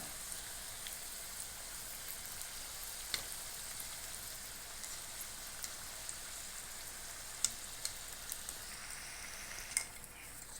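A sweet biscuit-like snack fries in hot oil, giving a soft, steady sizzle throughout with occasional faint pops and stirring clicks, no voices.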